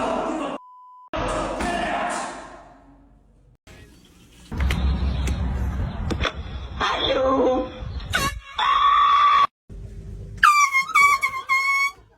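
Air horn blasted in a prank, sharp loud bursts amid slams and thumps, with people shouting and talking between the blasts.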